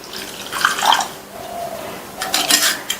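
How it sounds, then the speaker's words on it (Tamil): Lukewarm water trickles and splashes into a small vessel in two short bursts, with faint clinks of a cup in a quiet kitchen setting, while making salted water for puttu. "1/3 கப் அளவுக்கு வெதுவெதுப்பான தண்ணி சேர்க்கிறேன்"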